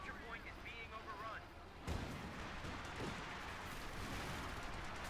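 A cooked grenade bursts in the World War II strategy game Company of Heroes 2, a sudden loud blast that leaves a sustained rumbling battlefield din, with a voice talking over the mix before the explosion.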